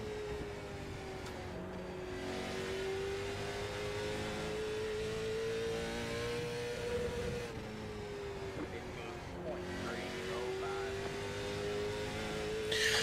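Late model stock car racing at South Boston, heard from on board: a steady, droning engine note holds throughout, dipping and rising slightly with the throttle, while a voice talks over it.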